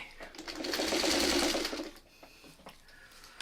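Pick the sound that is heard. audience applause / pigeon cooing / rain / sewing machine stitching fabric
sewing machine stitching fabric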